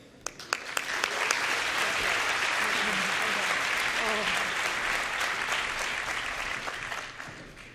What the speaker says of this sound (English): And a big round of applause for Haley and Laura for managing us through